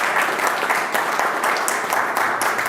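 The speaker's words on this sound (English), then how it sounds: "A round of applause, please." Loud, close applause from a conference audience at a protocol and diplomacy event, a dense continuous patter of clapping filling the whole stretch with no voices over it.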